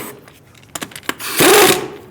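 Impact wrench zipping lug nuts onto a rear wheel of a 2014-2018 Subaru Forester during a brake caliper job: a few short clicks and bursts, then one loud sustained whirring burst lasting about half a second, close by.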